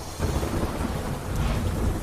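Thunder rumbles under dark storm clouds in Gujarat as lightning strikes a temple spire, a loud, rolling low boom over steady rain that swells again toward the end.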